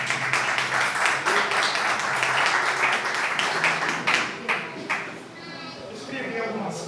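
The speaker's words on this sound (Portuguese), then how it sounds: "Pode se assentar as palmas para o Senhor." A church congregation applauds, a dense clatter of many hands that fills the room and then thins and fades away toward the end, with voices faintly mixed in.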